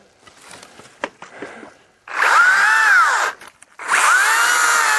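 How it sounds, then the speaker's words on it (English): A small Makita battery-powered saw revs up in two loud bursts with a steady high whine, a brief pause between them, while quieter handling noises come before. "This little Makita will run for about a half hour. It's a kick-ass little saw."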